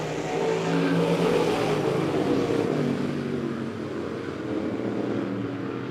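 USRA stock cars racing at Monett Motor Speedway, a loud roaring engine drone swelling as cars pass nearby and then easing into a steady distant rumble.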